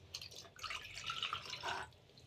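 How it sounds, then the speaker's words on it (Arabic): A little water is poured onto yeast for qatayef batter, giving a brief, soft trickle and dripping close by in a quiet kitchen. "هنزل بقى بالخميره دي كده هنا، هنزل بقى عليها بشويه ميه"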